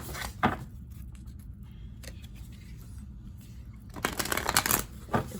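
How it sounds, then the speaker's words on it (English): A deck of cards is shuffled close up, with a couple of quick riffles at the start and a longer, louder riffling burst near the end, separated by quiet handling. "Let's shuffle."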